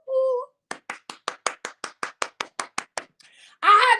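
One person claps hands about a dozen times in a quick, even rhythm, crisp and close, between brief bits of speech before and after the claps.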